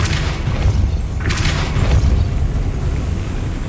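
A Depulso spell fires in Hogwarts Legacy, a deep booming blast with a rumbling low end and a brief hissing burst on top, loud and close, with no talking.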